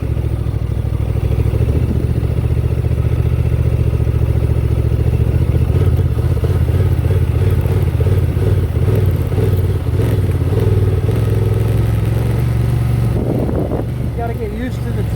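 A 2024 Honda Transalp 750 motorcycle rides off-road in first gear, its engine droning loudly and steadily close to the microphone with some clatter, and a short burst of talk near the end.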